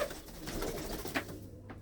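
A brief, soft pigeon coo rises out of a low, noisy background among kept pigeons.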